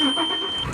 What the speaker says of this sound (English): that's a lovely smooth engine, isn't it?